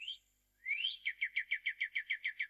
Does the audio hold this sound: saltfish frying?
no